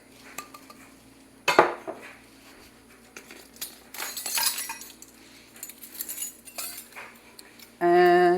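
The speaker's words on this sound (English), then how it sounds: "we're going to add our 2 cups of sugar, 1 cup of cocoa, and 1 cup of all-purpose flour" Sugar, cocoa and all-purpose flour go into a bowl for a chocolate dry mix, heard as scattered clinks and knocks of a measuring cup and utensils against the bowl, with a rustling pour in the middle.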